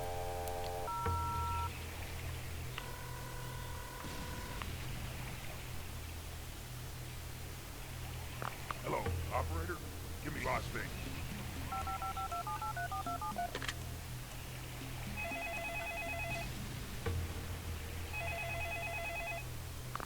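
DTMF dialing tones from a phone booth in the video game Serious Sam HD, several separate bursts of beeping keypad tones over a steady low electronic hum, loud and close, with no voices.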